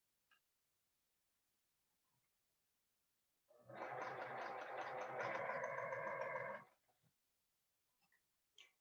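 A sewing machine stitches quilt block pieces in a row, a short run of rapid, even needle pulses lasting about three seconds in an otherwise quiet room.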